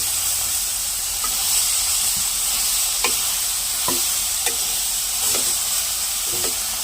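Soya chunks (meal maker), boiled in hot water, frying in masala in a pan: a steady, loud sizzle and hiss runs throughout, with occasional sharp crackles and pops, and no talking.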